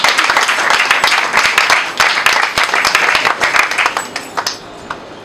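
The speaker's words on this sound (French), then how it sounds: "si nous pouvons l'applaudir." Audience applause at a French-language vocational training ceremony, a dense burst of many hands clapping that thins into a few scattered claps near the end.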